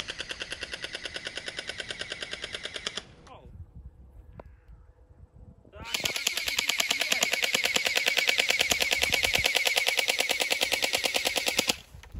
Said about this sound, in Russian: Ну что, готовься, Матвей, стрелять по парашютистам